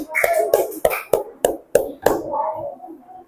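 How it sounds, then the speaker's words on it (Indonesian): Students clapping hands in a grade 5 classroom, a series of sharp rhythmic group claps in quick succession, close and bright, with children's voices chanting between them. "Oke, tepuk tangan."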